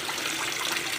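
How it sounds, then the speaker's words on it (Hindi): Saag greens washed in a fourth change of water in a home kitchen, a continuous close sloshing and running-water wash without pauses. "यहाँ हम 3 पानी से धो लिए हैं और ये चौथा पानी है"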